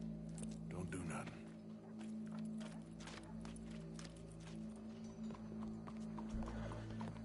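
Hooves clip-clop steadily at a walking pace in Red Dead Redemption 2 under a constant electronic hum, with game-style ambience and a brief whinny early on.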